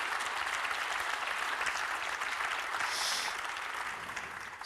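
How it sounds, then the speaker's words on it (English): Audience applause at the FAB25 event in Prague, a dense, steady wash of many hands clapping that holds loud for the whole stretch and only starts to ease at the very end. "The applause comes to you."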